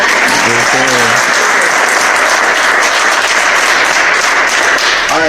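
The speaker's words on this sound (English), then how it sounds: "Can we get yourself a round of applause?" Seminar audience applauding steadily at a Black History Month event, dense sustained clapping filling the room from start to finish, with a brief voice speaking at the very beginning.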